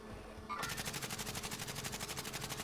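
Rapid automatic gunfire in the video game Warzone, a sustained burst of evenly spaced shots that starts abruptly about half a second in and rattles on steadily to the end, fairly close.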